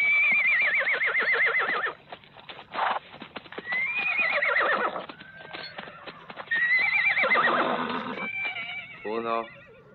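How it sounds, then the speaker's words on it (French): In a Western film scene, several horses neigh in loud, shrill bursts over a rapid drumming of galloping hooves as they are ridden off. "Prenez les chevaux et filez."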